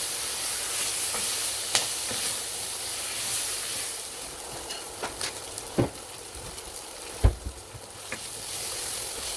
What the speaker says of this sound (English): you're going to add your minced garlic and give that a stir as well